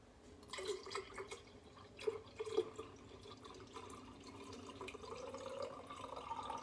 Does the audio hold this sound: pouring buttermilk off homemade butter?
yes